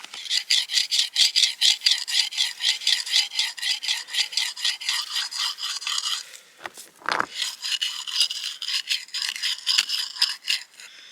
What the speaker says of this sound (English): when I am grinding, it's smooth